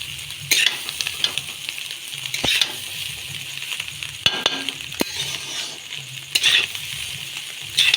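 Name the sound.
stir-frying egg chowmein with fried vegetables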